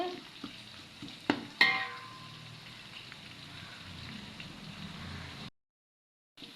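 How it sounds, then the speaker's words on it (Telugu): Steady sizzling and crackle of food frying in a pan until reddish for chicken biryani, with a few sharp clinks of a utensil stirring, then sudden silence near the end. "ఎర్రగా వేయించుకుంటే కలర్ వస్తుంది ఫ్రెండ్స్ అందుకోసం ఎర్రగా వేయిస్తున్నాను"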